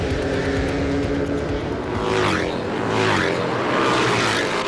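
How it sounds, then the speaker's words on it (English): Harley-Davidson twin road racing motorcycles roar past on a road racing circuit, a loud sustained engine drone with rising and falling pitch sweeps as bikes pass close by, no talk over it. "That's the sound of American Iron doing battle on the road racing circuit."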